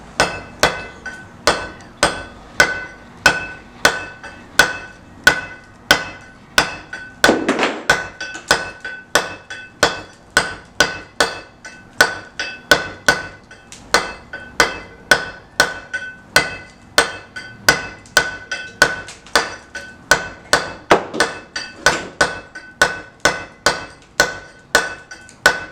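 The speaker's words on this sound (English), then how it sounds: "Let me try to find a metal flat chisel. Here's a metal flat chisel." A hammer repeatedly strikes a metal flat chisel carving stone in traditional hand stonemasonry, giving a steady series of sharp, ringing taps close by, one blow after another throughout with no talk.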